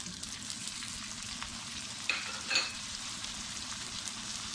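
Tomatoes go into a pan of frying mutton roast masala, which sizzles steadily at close range, with a couple of brief clinks and splashes as they land in the hot oil.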